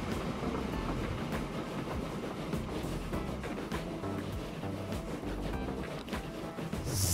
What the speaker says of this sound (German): Hier kommt vorne kommt schon unser neuer Zug raus.